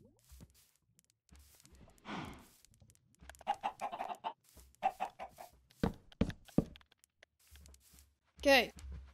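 Chickens cluck in the video game Minecraft, short, scattered clucks mixed with a player's excited talk, ending in a louder squawk near the end.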